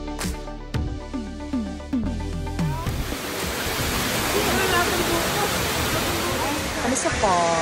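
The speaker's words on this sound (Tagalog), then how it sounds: "Kami sa falls, sa Villa Escudero." The waterfall at Villa Escudero in the Philippines gives a steady, broadband rush of falling water that grows louder and fuller over the clip, with voices and other sounds mixed in near the start.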